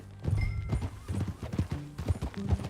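Horse hooves clip-clop in a quick, uneven rhythm in Red Dead Redemption 2, close by, with a brief snort or whinny near the start.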